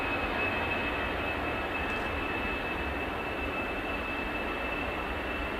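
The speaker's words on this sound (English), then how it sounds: "Royal Air Maroc taxiing onto the runway" Royal Air Maroc airliner taxiing onto the runway at Manchester Airport, a steady broadband jet engine roar with a constant high whine, heard from a distance and unchanging throughout with no talk.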